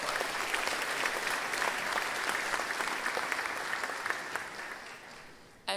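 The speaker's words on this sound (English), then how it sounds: "So a round of applause for just all of your support." A large audience applauds at the Temple University School of Pharmacy Class of 2025 graduation ceremony, a dense, even wash of clapping that holds steady and then slowly tapers.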